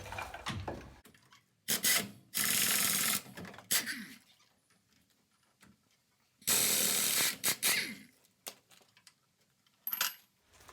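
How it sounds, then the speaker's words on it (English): Metal tool work while removing the brake caliper assembly from a Silverado: several separate bursts of clattering and scraping with quiet gaps between them, heard up close with no talking. "we're going to go ahead and take off this whole caliper assembly right here"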